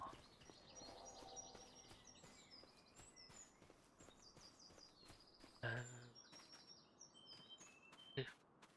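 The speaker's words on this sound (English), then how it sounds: "I keep hearing that same bird." In Farming Simulator 25 at Riverbend Springs, a bird repeats short chirping calls, faint and somewhat distant, over soft footsteps and ambient rustle with a couple of sharper knocks.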